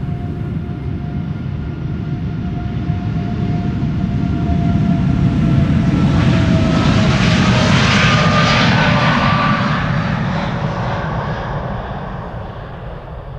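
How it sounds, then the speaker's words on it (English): An 11-year-old United Airlines Boeing 787 Dreamliner departs Amsterdam Schiphol with a loud, sustained jet engine roar that builds to a peak midway and then slowly fades, with no voices. "This is United Airlines Flight 908 to Chicago O'Hare"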